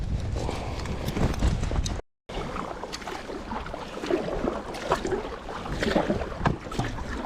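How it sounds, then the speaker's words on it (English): Paddle strokes from an Itiwit X500 inflatable touring kayak on a long open-water day trip, with steady rhythmic splashing and dripping water close by, broken by a brief silent gap. "so I'm gonna continue paddling."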